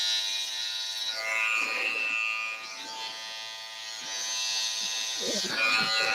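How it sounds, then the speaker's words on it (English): An electric hair clipper drawn down through hair gives a steady, close, high-pitched buzz that shifts slightly as it moves, while a person talks over it. "you just drag the clipper down slightly"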